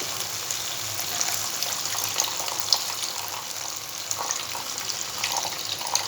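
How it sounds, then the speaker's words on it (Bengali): Water goes into hot oil and spices frying in a pan, a continuous loud sizzle and bubbling hiss that holds steady with a few sharper crackles, close up. "এবার আমি এর মধ্যে সামান্য জল দিয়ে দেবো।"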